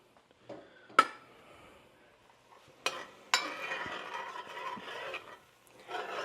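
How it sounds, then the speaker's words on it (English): Flour stirred into softened vegetables in a pot to make a roux for chicken pot pie, with a few sharp clinks of a utensil against the pot and a soft, steady scraping and sizzling in between, close by and without talk. "we're going to add about 1/3 cup of flour to make a roux"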